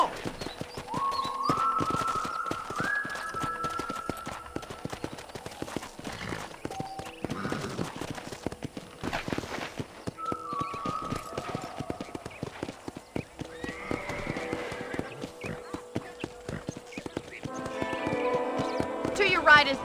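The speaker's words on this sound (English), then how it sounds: "let's see if you can still ride a horse" Steady clip-clop of horse hooves during riding in the Red Dead Redemption video game, rhythmic and close, with a whinny or two. Voices talk over the hoofbeats now and then.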